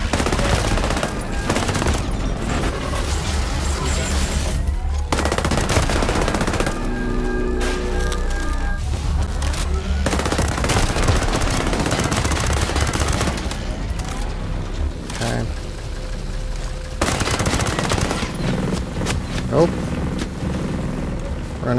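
Gunfire from an M4A1 rifle fitted with a compensator in the video game Ghost Recon Breakpoint, with repeated rapid bursts and shots running through most of the stretch amid dense game ambience, loud and close.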